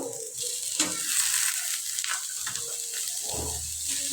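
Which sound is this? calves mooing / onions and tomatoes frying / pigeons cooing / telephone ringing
onions and tomatoes frying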